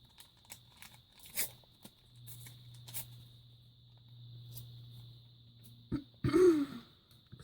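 A person with a frog in the throat clears it once, a short rough burst near the end, after a quiet stretch of faint taps and a low steady hum.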